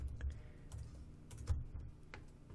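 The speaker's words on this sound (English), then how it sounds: "we're going to type in modified debugging" Typing on a computer keyboard, a quiet series of irregular clicking keystrokes in short bursts, close and soft over a low background hum, with no speech.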